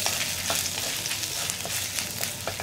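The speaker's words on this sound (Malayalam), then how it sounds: "നമ്മുടെ വറ്റൽ മുളക് രണ്ടോ മൂന്നോ എണ്ണം ചേർക്കുക അതുപോലെ തന്നെ നമ്മൾ മുറിച്ചു വെച്ചിരിക്കുന്ന ഇഞ്ചിയും ചേർക്കുക" Dried red chillies and chopped ginger fry in hot oil for brinjal roast, giving a loud, continuous close sizzle with faint crackles and pops throughout.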